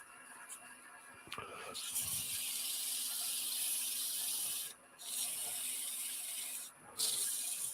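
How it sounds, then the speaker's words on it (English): Sandpaper rubbed against a spinning live center on a wood lathe gives a steady, close hissing scrape that holds for several seconds, broken by two short pauses where the paper lifts away. "Am I gonna rub the live center a little bit with the sandpaper? Sure, you can see I'm kind of sanding it a little bit"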